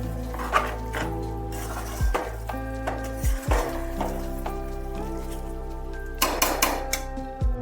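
Rice and chicken polao with milk is stirred in a pot, the spoon knocking and scraping against the metal in several sharp clinks over a constant low hum.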